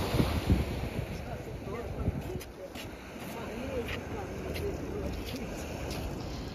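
Black Sea waves breaking on a rocky shore in Odessa in winter: a steady, soft wash of surf and rolling water with light wind buffeting the microphone, fairly quiet and continuous throughout.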